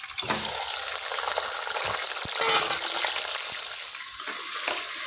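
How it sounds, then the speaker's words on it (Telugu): About 1 kg of cleaned chicken fries in roughly 125 grams of hot oil, giving a loud, steady, close sizzle and crackle that continues unbroken for the whole stretch, with no voices. "నేను ఒక 1 kg చికెన్ క్లీన్ చేసుకొని ఇందులో వేసుకుంటాను ఫ్రెండ్స్."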